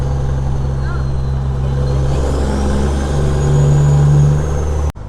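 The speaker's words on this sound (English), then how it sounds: "What's that noise the truck is making? I'll give you some help. The Jake brake." A truck's engine brake rumbles as a loud, steady low drone close by, swelling in strength for a moment before cutting off abruptly at the end.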